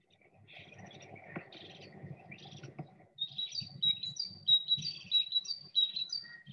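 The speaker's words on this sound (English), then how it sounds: "Kind of a sweet musical song. Another great tit." A great tit sings in Greece in May, a sweet, musical series of repeated high two-note phrases, fairly faint and distant, following some softer chirps from other birds.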